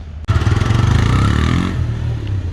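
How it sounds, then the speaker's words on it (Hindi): A TVS Raider 125 motorcycle engine starts up and runs with a steady, loud, close mid-pitched throb and some mechanical clatter. It keeps going without a break from just after the start to the end, and no one speaks. "तो अभी एक बार टेस्ट राइड पर लेकर गए बाइक को"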